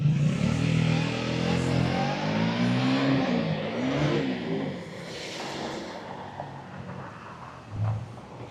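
Car engines revving on a downtown Los Angeles street, a loud rising and falling roar close by that passes and fades amid city background noise, with another rev near the end.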